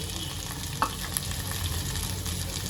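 Fried okra stirred into hot oil with kokum in a pan, a continuous close sizzle with a sharp clack of a spoon against the pan and soft scraping.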